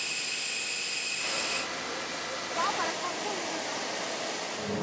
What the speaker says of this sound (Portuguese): Este canhão consegue jogar água até 50 metros de distância.